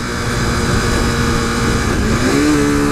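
A loud 2015 KTM RC 390 sport motorcycle engine idles with a steady throb, then revs briefly as the pitch climbs near the end.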